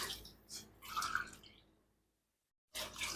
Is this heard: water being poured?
yes